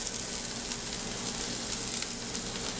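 Sweet peppers fry in hot palm (dende) oil with a steady, close sizzle and crackle that holds evenly throughout.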